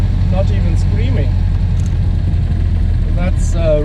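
A Ford Model A with a modified transmission runs in second speed at about 25, its engine a loud, steady low rumble heard from inside the car, with brief voice-like sounds rising over it at moments.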